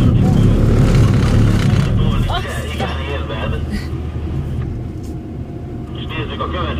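Car driven only on throttle around a circular skid pad at a Hungarian driving-technique camp, engine droning loud and steady throughout, louder at first then easing, with people talking over it.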